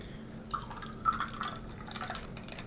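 Perrier sparkling water pours into a glass of bourbon with soft trickling and a few small drips and splashes, fairly faint and close, with no talk over it.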